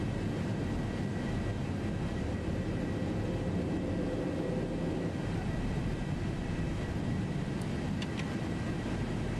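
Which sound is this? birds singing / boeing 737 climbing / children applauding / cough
boeing 737 climbing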